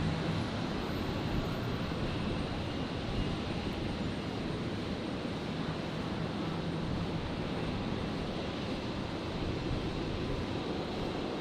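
Aircraft landing on runway 01 right at Brisbane Airport, heard as a steady, unbroken engine roar holding at an even level from start to finish, with no talking.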